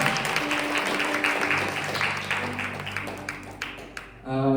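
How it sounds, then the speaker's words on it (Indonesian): An audience at a youth church gathering claps on cue, a dense burst of applause that fades over a few seconds until a voice comes in near the end. "Tepuk tangan dong."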